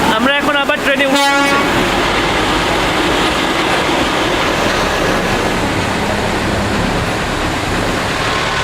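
Darjeeling toy train pulling out of Ghum station, opening with a loud horn blast and then a close, steady rumble and rattle of wagons rolling along the track.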